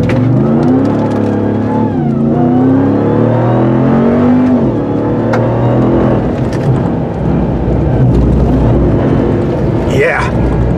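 A supercharged engine in a 2021 RAM 1500 TRX Hellcat pickup revs loudly and steadily, rising and falling through repeated throttle blips with a continuous whine, while people talk over it.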